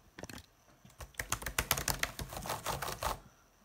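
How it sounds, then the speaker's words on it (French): Rapid keystrokes on the keyboard of an HP OMEN 15 laptop (15-ax015nf) being tried out right after unboxing: a dense, close burst of clicky taps lasting about three seconds, with no voices. "On va essayer le clavier, tiens, un peu comme ça."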